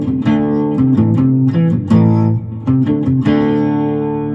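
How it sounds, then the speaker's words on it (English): Distorted electric guitar chords in E from a rock arrangement, strummed in a loud, steady, rhythmic pattern with sustained, crunchy overdrive and no voice. "Got a little distortion on it now here."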